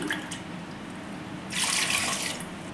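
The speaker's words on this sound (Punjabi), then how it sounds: "ਇਹਦੇ ਵਿੱਚ ਪਾਵਾਂਗੇ ਆਪਾਂ 2 ਗਲਾਸ ਪਾਣੀ" Two glasses of water are poured into a pressure cooker holding chopped raw mangoes; a steady splashing stream starts partway through after quiet room tone, close and moderately loud, with no talking.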